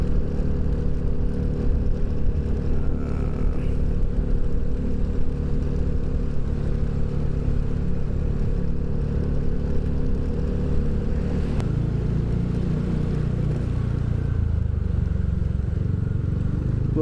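Motorcycle exhaust drones loud and close throughout a ride, a continuous steady rumble with a slight shift in tone near the end.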